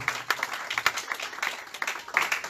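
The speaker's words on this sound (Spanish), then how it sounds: "Denle un aplauso a Dios, hermano, que Dios es bueno." A church congregation claps and applauds steadily, with quick bright claps over an indistinct murmur of voices.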